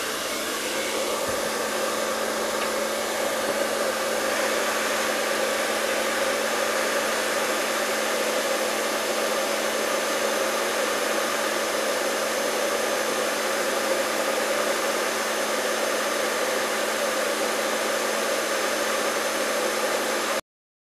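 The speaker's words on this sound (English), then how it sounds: "Grab your hairdryer." A hair dryer blows continuously to heat a Slickwraps skin being fitted on an iPhone 6, a loud, steady whooshing roar that holds unchanged from start to finish with no talking.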